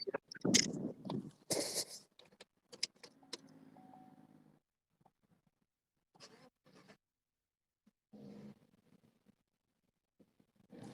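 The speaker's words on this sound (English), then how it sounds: "Pull the suburban key out." Keys for a 2017 Chevy Suburban with 48k miles jangle and clink near the start as they are handled inside the vehicle. Scattered short metallic rattles and knocks follow, with quieter pauses between them.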